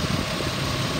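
A 2006 Ford Explorer SUV engine idles smoothly and steadily up close, a low, even rumble with no other sounds.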